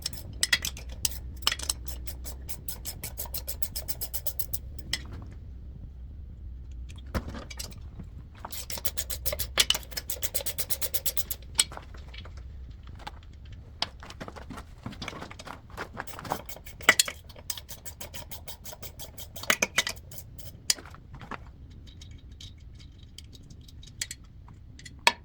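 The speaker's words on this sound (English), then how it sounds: "next best thing is a ratcheting wrench" Ratcheting wrench working bolts on a Mercury 90hp outboard motor during an impeller pump change, heard as bursts of fast, light metallic clicking separated by pauses and softer scraping and tool handling, fairly close.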